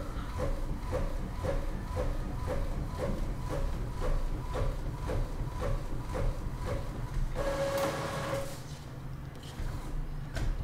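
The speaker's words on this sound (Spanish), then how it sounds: "podemos ya ver en nuestra impresora que ya está saliendo la impresión" An Epson L3250 inkjet printer prints a test page, its carriage moving in a steady rhythm of repeated mechanical passes, then a brief whir and a louder paper-feed sound near the end, close and without talk.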